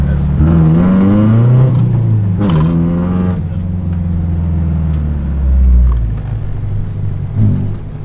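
A manual-transmission car engine runs while driving, giving a close, steady low rumble with revs that swell and ease throughout.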